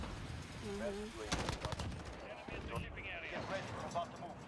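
Rapid automatic M4 rifle fire in a first-person shooter video game, bursts of sharp shots clustered in the middle of the clip with other game noise, while a player talks over it.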